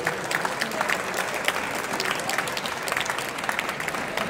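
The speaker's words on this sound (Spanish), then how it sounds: "A ver ese aplauso, hombre." Steady, dense applause from an indoor audience at a digital art awards ceremony, continuous clapping at even level throughout with a faint murmur of the crowd.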